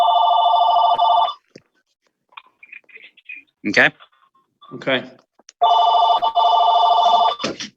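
A phone rings during a county fiscal court meeting, loud electronic trilling bursts at the start and again near the end, separated by clicks, handling noises and brief talk close to the microphone.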